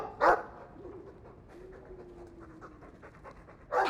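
A dog in the Dragon Age 2 video game pants briefly and barks, with a short bark at the start, quiet breathing and ambience in between, and a second bark near the end.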